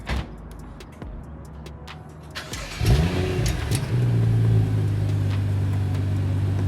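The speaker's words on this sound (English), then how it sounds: "stock cold start" A stock BMW 435i with the N55 engine cold-starting: a brief starter crank catches into a rising rev flare, then settles into a steady, loud high idle close by.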